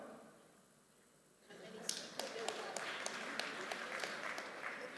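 Scattered applause rises from a keynote audience after a quiet pause, with distinct individual claps ringing out over a soft, fairly distant round of clapping.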